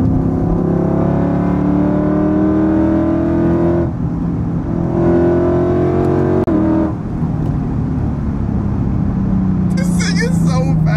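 Modified Lexus IS F V8 accelerating hard from inside the cabin, loud engine note climbing through the revs with gear-change dips, continuous for the whole stretch, with a voice briefly heard near the end.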